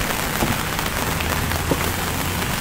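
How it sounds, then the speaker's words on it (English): Steady rain falls outdoors at a reputedly haunted historic house, Cherry Hill House in Mississauga, a dense continuous hiss of drops with a few louder individual splats, heard alone without voices. "it literally started raining 5 minutes before we got here."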